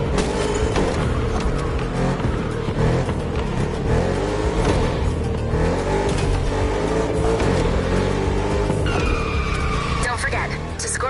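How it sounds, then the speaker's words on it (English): Audi RS6 in a video game, its engine droning and revving continuously at close range with tyre noise, loud and steady throughout, with a voice talking over it. "Right now, you're driving the Border Collie, the Audi RS6."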